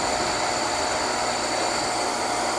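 A Gold Medal Whirlwind machine switched on and running after cleaning, giving a loud, steady rushing whir like a blower motor that holds constant from start to finish, up close with no talk.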